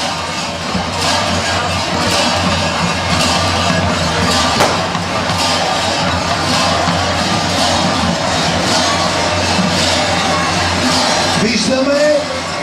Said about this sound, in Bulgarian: Аплодисменти, приятели, за нашите гости от община Карлово